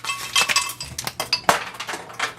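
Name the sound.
full tray of ice cubes clinking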